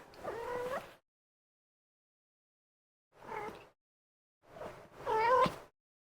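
Kittens meow in short, close bursts: one mew, a pause of silence, then two more cries in quick succession, the last loudest.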